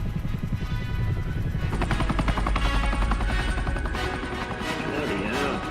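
A Sikorsky heavy helicopter thuds and whirs steadily up close, its rapid rotor beat pulsing throughout under a person talking.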